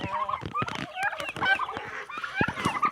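Poultry call busily in a yard around a spotted hen, a flurry of close, irregular clucks and gobbling squawks in quick bursts.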